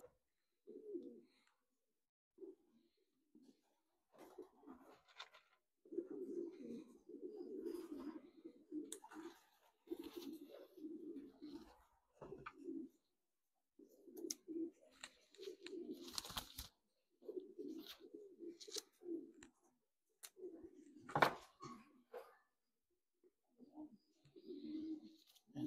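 Racing pigeons in a one-loft facility in Texas, giving repeated low soft coos in irregular bursts with pauses, some wing flutters and clicks between, moderately close.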